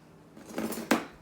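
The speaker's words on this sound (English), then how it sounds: "He's going to take some of the utensils out." Metal utensils are lifted out of a dishwasher rack, giving a few quick clinks and rattles that build to one sharp, bright clatter, close and alone.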